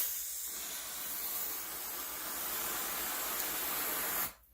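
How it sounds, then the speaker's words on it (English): A Dupre Neat steam cleaner hisses steadily up close while being primed, with a loud continuous jet of steam that runs for several seconds and then cuts off abruptly. "So I'm going to first prime the system and get all the water out of the line so that we're just using straight steam."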